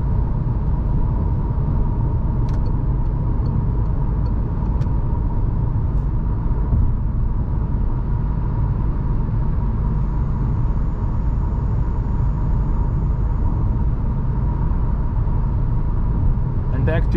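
A steady low rumble of road and engine noise fills the cabin of a 2021 Citroen C3 with a PureTech 110 HP engine cruising at 100 km/h around 2000 RPM, constant and unbroken throughout.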